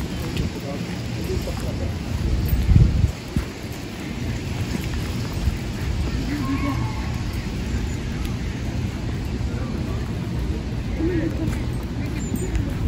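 Rain falls steadily on Nami Island in cold weather, a continuous hiss of drops on surfaces with a brief louder rumble early on, while people talk intermittently over it.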